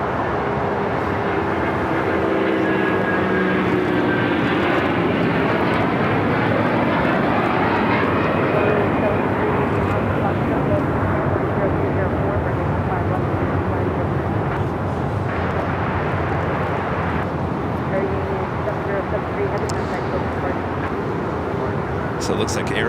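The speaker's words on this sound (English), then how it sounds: "we've got that Air Union A330, all white, plain Jane. Looks like it's taken off 25 left" An all-white Aero Union Airbus A330 takes off from runway 25 left at Los Angeles airport, its jet engines a loud, sustained roar that slowly shifts in pitch as it climbs, with a person talking over it.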